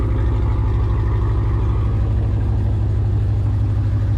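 A 1000-horsepower manual-transmission Dodge Hellcat with a six-speed roars at a steady loud, close, low engine drone while its tires struggle for traction, with no talk.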